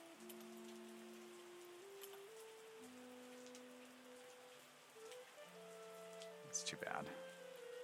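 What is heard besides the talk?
rain falling in the video game Terroir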